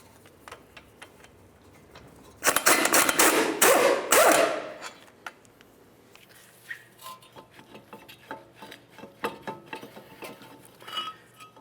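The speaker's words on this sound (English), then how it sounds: "let's remove our 2 caliper bracket bolts using a 17mm" A 17mm wrench works loose the caliper bracket bolts on a 1999-2003 Toyota Solara during front hub service, with a burst of loud metallic clanking and ratcheting followed by scattered lighter clicks and taps. No one speaks.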